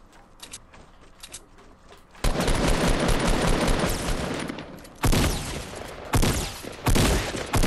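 Shotgun fire in the Fortnite Battle Royale video game: after a quieter start, a dense, loud barrage of gunfire breaks out, followed by several more heavy blasts in quick succession.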